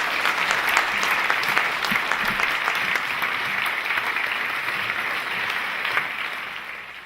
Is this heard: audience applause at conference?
yes